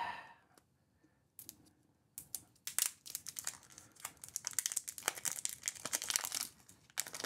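Plastic wrapping torn open from a Wacom tablet's cordless pen: a few faint rustles, then from about a second and a half a steady run of close crinkling, crackling and tearing bursts that grows louder toward the end.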